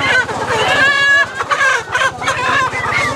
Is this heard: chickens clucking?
yes